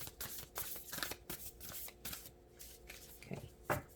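Oracle cards being shuffled by hand in a series of quiet, irregular papery flicks and slaps, close by and faint.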